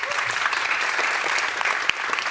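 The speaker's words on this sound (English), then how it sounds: "Can we give them a round of applause?" Dense, steady audience applause fills a campus auditorium after a panel on working with large web and mobile development teams, sustained throughout with a brief louder clap near the end.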